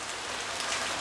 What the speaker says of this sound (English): it's wet and raining like this